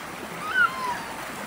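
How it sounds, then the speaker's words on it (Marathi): Slippers are rinsed by hand in clean, flowing water in Kolhapur, giving a soft, steady wash of running water with a brief louder splash near the middle; no one speaks. "बघा चप्पल धुणं चालू आहे काय नाही स्वच्छ पाणी आहे"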